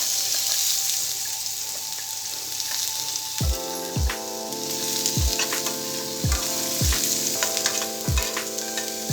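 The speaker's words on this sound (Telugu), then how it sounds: "ఎండుమిర్చి ఫ్రై చేసుకున్న ఇదే ఆయిల్లో క్యారెట్ ముక్కలు వేసుకోవాలి." Carrot pieces frying in oil already used to fry dried red chillies give a continuous close sizzle. Partway through, a run of repeated squeaky falling tones rises over the crackle.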